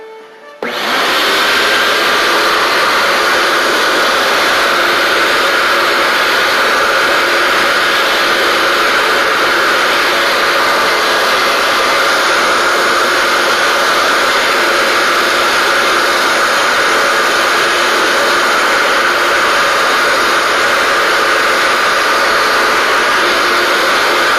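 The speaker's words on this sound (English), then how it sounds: "Now that we've scrubbed the floor, it's time to pick it up with the wet dry vac." A wet dry vac sucks up water from a freshly scrubbed floor, a loud, steady whining roar that starts abruptly and runs unbroken throughout.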